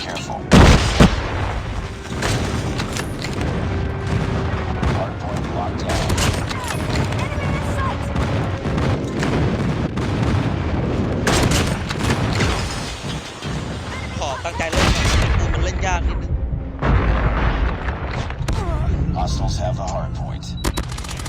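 SP-R 208 sniper rifle shots in the mobile shooter Call of Duty Mobile, sharp cracks standing out over a dense, continuous game soundscape while someone talks throughout.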